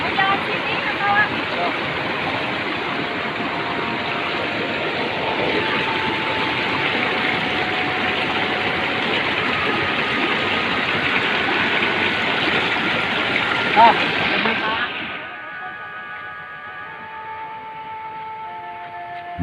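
A stream flows in a broad, steady rush of water for about fifteen seconds before cutting off to a quieter background with faint tones.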